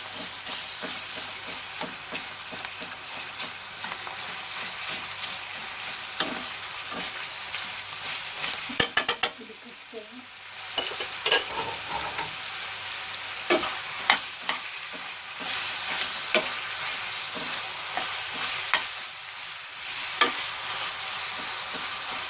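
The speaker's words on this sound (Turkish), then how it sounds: "Kıymayı da birlikte hep birlikte kavuralım." Minced meat stirred and fried in a pan while preparing Turkish oven-baked eggplant oturtma: steady sizzling with repeated scraping and stirring strokes, close up, no talking.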